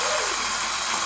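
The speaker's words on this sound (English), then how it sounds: "So we'll just crank up that steam" Close, loud steam hissing from an espresso coffee machine's steam wand, a steady broadband rush that holds for the whole second with no pause.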